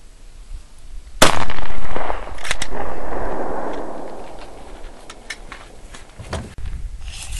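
A 9x19mm pistol fires 124 grain Hornady XTP rounds into a test medium, one sharp loud shot followed by a long rolling echo and a few fainter knocks and clatters, no talking.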